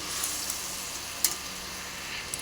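Water is splashed into frying masala in a pan for a fish chorchori, and it answers with a soft, steady sizzle and hiss, marked by a few faint clicks of stirring.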